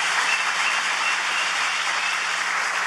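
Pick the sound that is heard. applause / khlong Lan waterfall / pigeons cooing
applause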